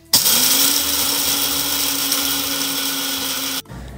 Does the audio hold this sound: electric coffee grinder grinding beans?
yes